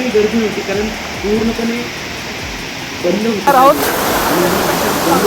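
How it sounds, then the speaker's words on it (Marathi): Small village waterfall at Palse in Tamhini Ghat, a constant rushing roar in the background while people talk over it. "पळसे गावातला असा छोटासा धबधबा आहे"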